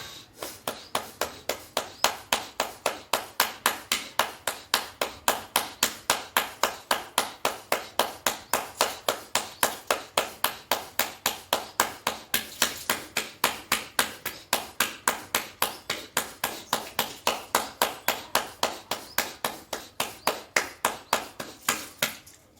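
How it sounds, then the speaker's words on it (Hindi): Steady, rapid hand clapping in an even rhythm throughout a bhastrika breathing exercise, close and loud, with no talking over it. "तालियों के साथ भस्त्रिका करें"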